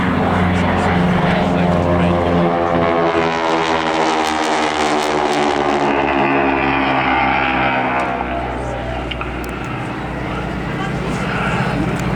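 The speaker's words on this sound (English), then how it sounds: "the distinctive rasp from that aeroplane, it's actually from the propeller" A Harvard propeller aircraft roars past close by at an air display, its loud rasping propeller note rising then falling in pitch over several seconds.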